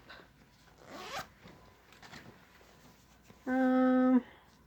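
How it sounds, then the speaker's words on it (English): Half-zip zipper on a long sleeve top, soft fabric rustling first, then one quick, close, crisp zip pull lasting under a second. "it's got a little zipper in the front."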